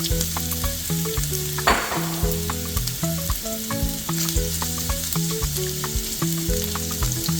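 Carrots stir-fry in a hot wok for a Ghanaian-Asian spaghetti stir fry, with a loud, continuous sizzle and repeated scraping and clanking strokes of a utensil against the metal, one sharper clatter near the start.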